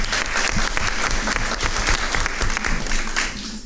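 Audience applause fills a Stonington selectmen debate hall, dense, steady clapping from many hands held close and loud for the whole span with no voices over it.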